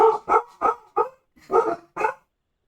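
Dogs bark in the background during a game session: six sharp, fairly loud barks in a quick, uneven series over about two seconds, then quiet, with no talking.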